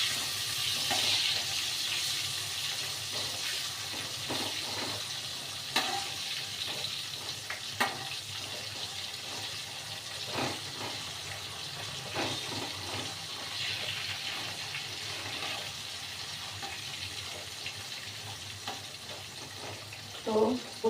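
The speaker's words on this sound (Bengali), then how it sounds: "তো বসিয়ে দিলাম পটলগুলো" Pointed gourd fries in a pan with a soft, steady sizzle, joined by occasional scrapes and clinks of a utensil and faint kitchen water sounds, fairly quiet and continuous for about twenty seconds.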